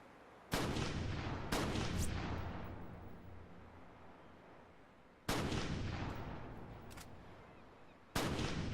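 Sniper rifle shots in the Crackdown video game: four loud, sharp reports spaced a few seconds apart, each followed by a long, fading echo tail, with no talking.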